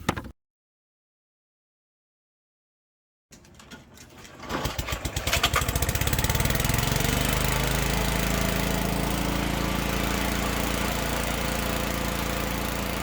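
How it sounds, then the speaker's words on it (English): A lawn mower engine chopping up leaves for compost starts after a few seconds of silence, sputters briefly, then settles into a loud, steady, close running drone. "use our mower to cut up our compost"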